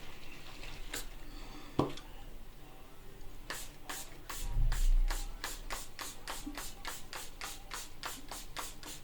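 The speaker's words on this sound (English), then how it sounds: "I'm going to spray a little bit of the Pixi Glow Mist as a prep" A Pixi Glow Mist facial spray bottle fires a quick run of short, sharp pumps, close and crisp, after some light handling and rustling noises.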